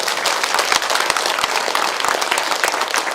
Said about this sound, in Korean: 봉사 보시에 동참하신 분들에게 감사의 박수를 함께 보내주십시오.